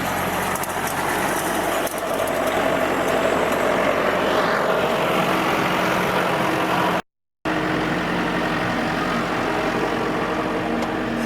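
A farm tractor engine rumbles steadily at close range with a low, constant drone. It is cut off by a brief dropout of silence and then resumes unchanged.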